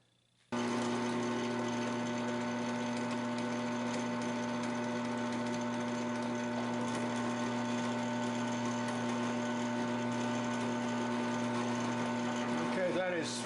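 A drill bores through an aluminum rod set in the stock of a Woodman Arms Patriot muzzleloading rifle, a steady close whirring motor tone that runs unbroken after a sudden start.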